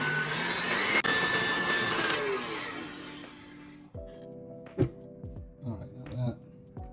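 An electric mixer runs at high speed whipping cream with sugar for cream puffs, a loud steady whir that cuts off partway, after which scattered clinks and faint sounds remain.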